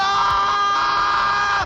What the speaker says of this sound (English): it's more like scream for Marveler